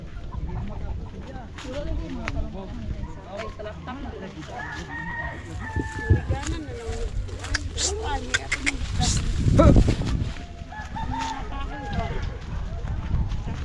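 A rooster crows a couple of times amid steady outdoor background noise, with people talking nearby.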